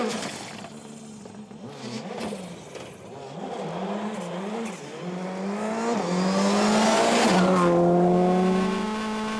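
Rally car on an Ulster stage, stuck and hunting for reverse, its engine rising and falling in uneven revs with tyre scrabble before a sustained louder run of acceleration as it drives away, close and alone without talk.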